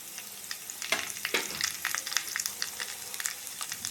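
Chana dal fries with mustard seeds and cumin in hot oil for a tempering. It makes a faint, steady sizzle with scattered crackles and a few stirring scrapes, and no voices.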